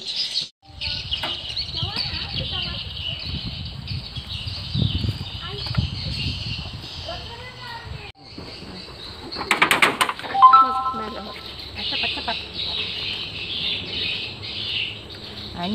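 Many birds chirp steadily inside a dark bird's-nest house, a continuous high twittering chorus with occasional louder squawks and a knock, while people talk nearby over it.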